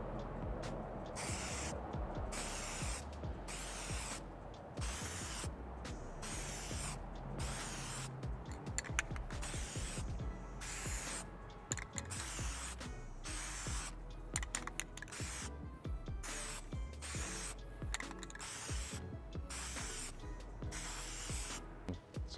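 Repeated bursts of Plasti Dip aerosol spraying onto car emblems, each hiss lasting about a second with short gaps, held steady and close with no talking.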